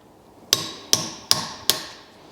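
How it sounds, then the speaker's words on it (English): Four sharp, evenly spaced hammer blows ring on a chisel as it folds the metal ring of a wiper seal, each strike bright and metallic with a short decaying ring, in a quiet room. "The outside ring of this wiper is metal, so we're just going to take a chisel and fold it in on itself."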